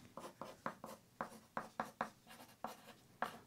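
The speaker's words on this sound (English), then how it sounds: "I just want to show you how nice this pencil writes." A Ticonderoga pencil writes on paper in quick rhythmic strokes, about a dozen short scratchy pulses, close and quiet with no talking.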